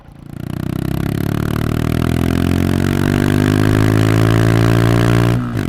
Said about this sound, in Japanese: アイドリングは安定していますし加速も全域でパワーにあふれています